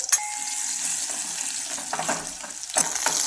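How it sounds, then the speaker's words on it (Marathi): Garlic paste sautéing in hot oil with mustard seeds and cumin in a kadhai, a steady close sizzle with occasional sharper spits and stirring scrapes. "लसूण छान पर परतून द्यायचा"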